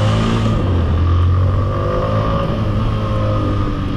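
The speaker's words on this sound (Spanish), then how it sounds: "Hasta el sonido del motor se escucha súper bien." A Suzuki Intruder 150 motorcycle engine runs continuously during a test ride, a close, steady, throaty drone with slight shifts in pitch as the bike moves along.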